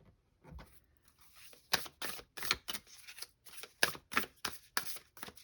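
Tarot cards are shuffled close by in quick, crisp bursts of riffling and flicking, with short pauses between each pass.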